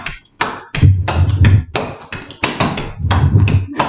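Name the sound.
clog dancing shoe taps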